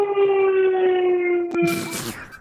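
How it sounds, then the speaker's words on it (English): A loud siren wails steadily at a town festival parade, close and dominant, with a brief sharp knock and some rustling noise near the end. "just a siren blaring"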